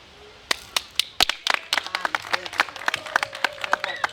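Scattered sharp claps from a small group, building into uneven applause with a few louder slaps, while a tone and faint voices sound underneath.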